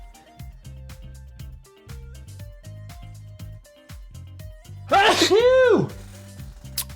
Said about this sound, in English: Should I keep that sneeze in?